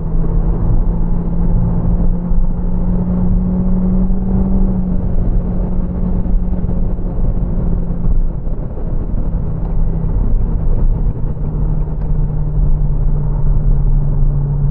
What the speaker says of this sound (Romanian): accelerație la podea și iată răspunsul mașinii